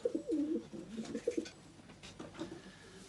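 An older racing pigeon hen with tiger grizzle colouring coos repeatedly at a pigeon show, a series of soft, throaty rolling calls close by that fade toward the end, with faint background noise and no speech.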